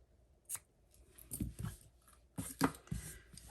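Scissors snip the ends of a paper-craft ribbon bow in a few close, crisp cuts spaced unevenly over a few seconds, with soft handling rustle between them and no talking.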